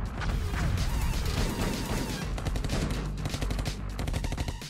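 Gunshots in a chaotic animated scene, a loud, dense barrage of rapid automatic fire with crashing impacts, sustained and close throughout with no clear gaps.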